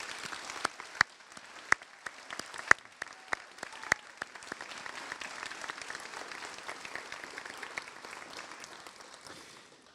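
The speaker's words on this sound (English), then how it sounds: "Would you mind if we gave your faculty and the staff of the school a big round of applause?" An audience at a school graduation celebration applauds faculty and staff. A few sharp close claps ring out early over a soft, steady wash of distant clapping.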